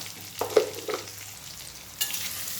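Green chillies fry with salt in hot oil while a spoon stirs them in the pan, making a few scraping strokes over a faint sizzle, with a brighter burst of frying near the end.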